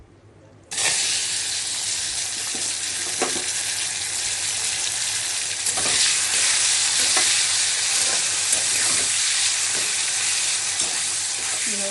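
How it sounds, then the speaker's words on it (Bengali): Prawns coated in turmeric and salt drop into hot white oil, setting off an abrupt, loud, continuous sizzle that holds steady and close for the rest of the clip, with occasional faint pops and no talking. "চিংড়ি মাছগুলোকে এইভাবে হলুদ নুন মাখিয়ে রাখছি, আর এখন ফ্রাই করব।"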